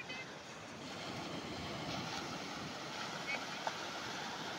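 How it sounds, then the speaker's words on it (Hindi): Steady roar of surf at Betalbatim beach in Goa, a continuous wash of breaking waves with wind buffeting the microphone throughout, fairly even in level with no clear individual crashes. "जो लहरों की आवाज़ है इतनी ज़बरदस्त आ रही है"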